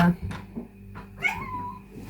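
A cat meows several times in short, rising calls indoors, close and clear, with a voice speaking briefly around them.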